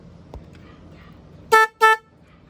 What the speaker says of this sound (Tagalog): ibig sabihin, gaganda na yung tunog ng ating busina.